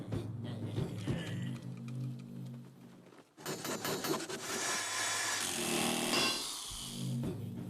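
Harsh rasping sawing noise starts partway through, loud and continuous, after a stretch of muffled background sound.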